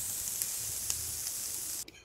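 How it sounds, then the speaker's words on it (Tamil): Onions sautéing in a pan for prawn gravy give a steady close sizzle with a few light clicks of stirring, cutting off abruptly near the end. "இதை நல்ல பொன்னிறமாகிற வரைக்கும் வதக்கிக்கலாம்."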